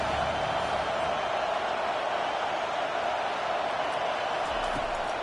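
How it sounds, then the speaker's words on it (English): A home crowd at a football game roars in a steady, loud, unbroken wash of cheering noise from start to finish. "Here comes this home crowd as the defense tries to get off the field on 3rd down."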